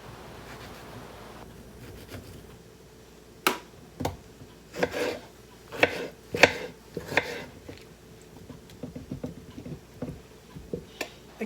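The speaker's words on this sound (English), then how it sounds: "I'm still cutting up the tomatoes and filling the jars" A knife chops tomatoes for canning, with a series of sharp, irregular taps on a board that start after a quiet stretch and run through to the end, close and fairly crisp.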